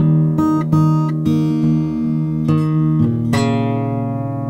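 An acoustic guitar in open E tuning is played fingerstyle in acoustic blues style, with plucked notes and strummed chords ringing close and clear before a final chord fades, no talking.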